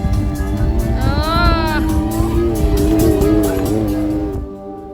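A car drives a rough mountain road in the Carpathians, its engine droning steadily and loud, with a rising whine in the middle and rattling bumps throughout, before easing off near the end.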